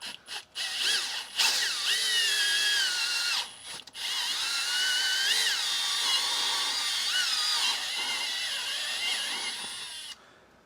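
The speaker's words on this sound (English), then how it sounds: "I have 1 3/4 inch hole saw that we're going to cut our hole" A power drill turning a 1 3/4 inch hole saw to cut a speaker hole during a Jeep Wrangler JK install, with a few short starts and then a sustained, loud whining cut of several seconds that winds down at the end.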